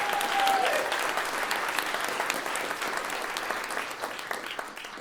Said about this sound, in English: Please, I'd love you to give a huge round of applause to Saron Yitbarek, our brilliant host for the show.